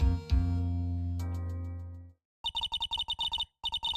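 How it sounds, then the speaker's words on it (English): A cell phone ringtone from the Phoenix Wright: Ace Attorney video game: first a bright sustained synth chord, then a short gap, then a quick run of bright repeated beeping tones in pulsing bursts, loud and clear with no talking. "Oh, it's my goofy ringtone."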